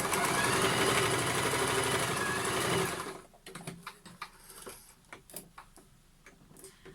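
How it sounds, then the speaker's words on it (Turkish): A sewing machine stitches a zipper with a straight stitch in a fast, steady buzz for about three seconds, then stops, leaving scattered light ticks and clicks. "fermuarımı da dikiyorum."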